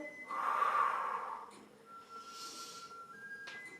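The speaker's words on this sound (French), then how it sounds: "je vais faire un grand geste en soufflant" A forceful exhale during a back warm-up exercise, one long loud breath out up close, followed by a fainter breathy rush of air and a quiet tail.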